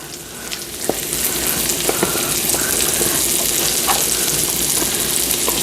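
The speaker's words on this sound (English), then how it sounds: "I'm gonna add in the onions to start sauteing them." Onions and mushrooms saute in a hot pan, making a loud, steady hiss and crackle close up, with a few soft scrapes of stirring over the sizzle.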